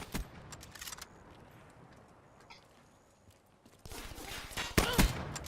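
Interdiction sniper rifle from Call of Duty (2017) firing in gameplay: a few sharp, widely spaced reports, the loudest near the end, over low battle ambience.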